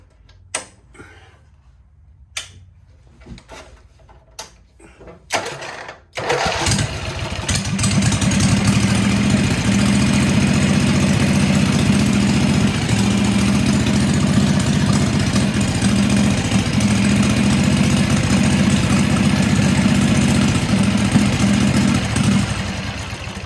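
Hot rod Wheel Horse lawn tractor engine: a few dry cranking bursts, then it catches and settles into a loud, steady, rumbling idle that runs on alone for many seconds.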